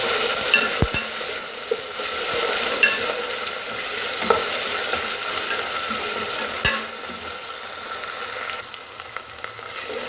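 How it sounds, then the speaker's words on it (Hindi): Onion, ginger-garlic and tomato paste fry in a pan, a soft continuous sizzle broken by occasional clinks and scrapes of a spoon stirring, with no talking. "इसको मैं थोड़ा सा और भूनूंगी"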